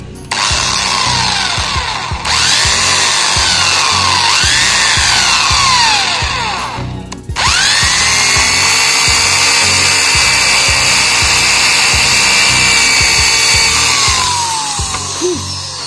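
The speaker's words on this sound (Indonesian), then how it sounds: "kita ganti matanya, bor yang agak besar, baru kita aplikasikan" A power drill fitted with a larger bit bores into teak wood, running loud and close in long steady whines, with two short pauses where the pitch drops and then climbs again.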